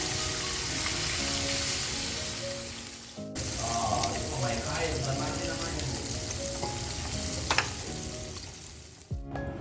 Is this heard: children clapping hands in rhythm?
no